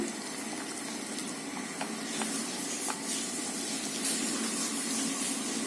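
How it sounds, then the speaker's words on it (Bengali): Water poured into a cooking pot while making okra bhorta and jute leaf fritters, a steady close hiss and gush of flowing liquid with faint clinks, running evenly for several seconds with no talk. "জল দিলাম।"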